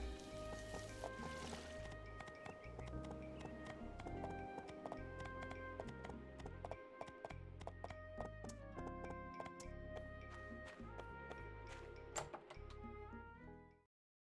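Steady rhythmic horse hoofbeats in the game My Time at Portia clip-clop along over layered game music and ambient tones, fairly quiet, ending abruptly.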